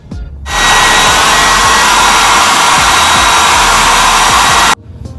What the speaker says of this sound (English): I've just blow dried my hair using the hotel hair dryer